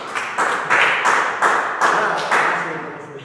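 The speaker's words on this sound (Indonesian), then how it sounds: "Tepuk tangan dulu lah." A few people clap hands together in a small podcast studio, a handful of broad slaps in uneven rhythm that start loud and trail off over a few seconds.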